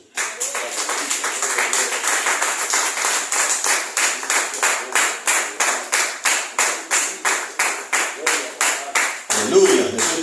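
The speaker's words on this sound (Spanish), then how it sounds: "Dale un aplauso al Señor" A church congregation applauds during a Spanish-language Bible study, steady rhythmic clapping continuing for several seconds at close range, ending as a voice comes in at the close.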